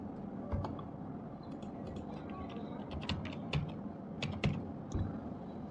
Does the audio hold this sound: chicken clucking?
no